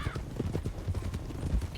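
Horse hooves clip-clop steadily in Red Dead Redemption 2 (RedM roleplay), a continuous rhythmic walking beat at moderate volume with no talk over it.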